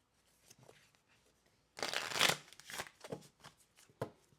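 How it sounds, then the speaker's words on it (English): Oracle cards being shuffled by hand, a soft riffling burst near the middle followed by several short flicks and taps, close and fairly quiet in an otherwise silent room. "We're going to go ahead and pull some cards together to see what's coming through."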